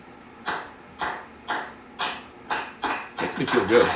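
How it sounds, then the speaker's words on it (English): An Amazon Echo smart speaker plays a clapping sound effect: crisp single claps, evenly spaced about twice a second, then quickening into a denser burst of applause at the end. "Alexa, can we get a round of applause?"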